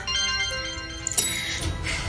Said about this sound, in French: Ton téléphone, Hazan.